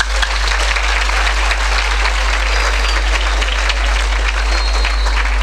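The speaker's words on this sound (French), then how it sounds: "On peut applaudir pour eux." Loud, sustained applause from a school audience of students clapping for their teachers, a dense even wash of claps lasting throughout with no talk over it.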